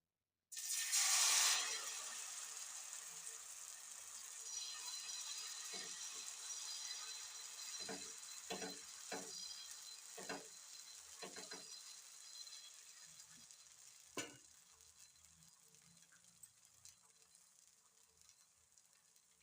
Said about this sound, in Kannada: ಈಗ ಹಾಕ್ಯಂತೀನಿ ನೋಡ್ರಿ ದೋಸೆ.